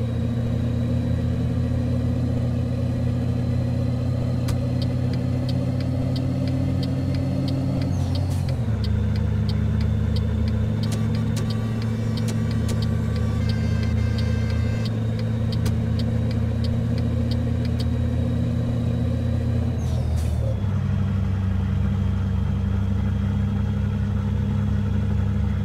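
Scania P 310 truck diesel engine in Euro Truck Simulator 2, a steady deep drone that drops in pitch at gear shifts around a third and four-fifths of the way through, continuous with no talking.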